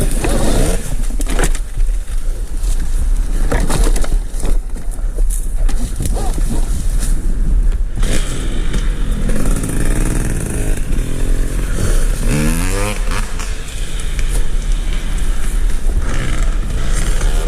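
An Arctic Leopard EXE 880 motorcycle is ridden outdoors with constant, loud, close rumbling wind and road noise throughout and no clear engine note.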